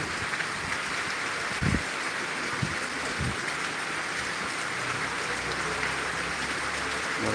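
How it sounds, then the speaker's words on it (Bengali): Heavy rain pours steadily in Tangail with strong wind, a dense, loud hiss filling everything, broken by a few low thumps and gusts near the start and a low rumble toward the end. "বৃষ্টির সাথে জোরে হাওয়া বইছে বাতাসও আছে"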